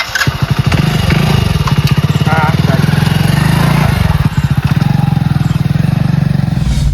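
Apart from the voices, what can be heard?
motorcycle engine running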